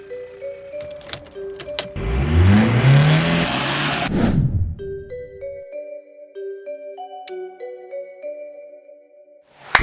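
A car pulls away: its engine rises in a loud, building roar for about three seconds, then quickly fades. Clear electronic chime tones follow in a quiet interior.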